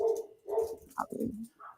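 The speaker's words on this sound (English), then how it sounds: "Can you hear all the dogs barking right now?" Neighborhood dogs barking in the distance: a few irregular bursts of barks, moderately loud, with no talking over them.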